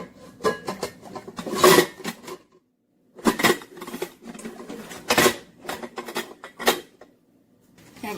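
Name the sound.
cooking pot being stacked on top of dishes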